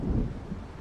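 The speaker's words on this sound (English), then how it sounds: "It seems there's a storm coming." A low rolling rumble of thunder from an approaching storm in Alan Wake, a deep, muffled roar fading slightly over under a second.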